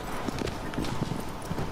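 Hoofbeats of a galloping horse in a video game, a rapid, steady clip-clop rhythm heard close against a dense game soundscape at moderate volume.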